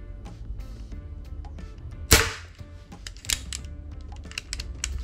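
A sharp, loud crack of a single Aurok Olympic Match 4.5mm air rifle shot stands out, followed by quieter clicks and a second smaller snap amid light mechanical handling noises.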